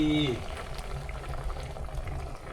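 Curry broth with catfish and sponge gourd leaves bubbling in a pot, a soft, steady simmering burble close by, with a brief voice at the start.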